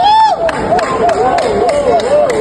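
An audience cheers and claps to welcome three-time Grammy-winning artist Gramps Morgan home in Ghana, a lively crowd roar with rising whoops and scattered hand claps over a steady babble.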